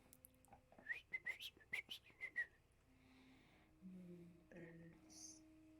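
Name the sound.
bird whistle imitated by the game master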